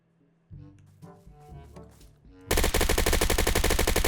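Close, loud bursts of M2 Carbine fire with an operator stock and short foregrip in the Apocalypse Rising 2 shooter game: a few spaced shots, then a dense, unbroken rapid-fire stream filling the last stretch.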